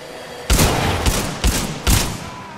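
Four heavy, booming weapon-strike blasts from gunfire in the video game Titanfall 2, spaced about half a second apart. Each is loud and close, with rumbling decay and no talking between them.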